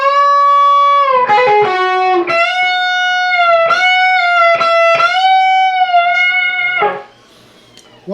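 A distorted electric guitar plays a quick lick, with rapid hammer-ons and pull-offs and sustained bent notes, loud and alone, ending in a brief pause.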